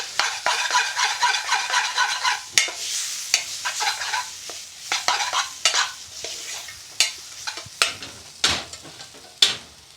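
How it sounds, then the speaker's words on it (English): Patak's Balti paste fries dry in a pan for chicken tikka, with crackling sizzle broken by repeated sharp spatula scrapes and knocks against the metal, close and fairly loud. "you really want to fry that Patak's Balti paste off"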